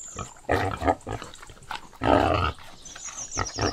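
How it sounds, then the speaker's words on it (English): A pig grunts and snorts in short, rough bursts at close range, with two louder oinks amid a noisy farmyard background. "Pig."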